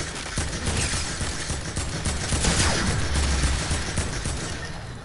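Rapid, continuous SCAR assault rifle bursts from the video game Fortnite, dense and loud for several seconds with no talking over them.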